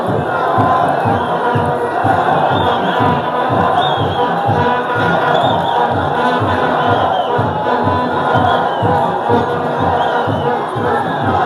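Football fans of Kirehe district at a Kagame Cup match between Kigarama and Gishari roar and chant together, with a steady rhythmic drum-like pulse beneath the loud, continuous crowd noise throughout.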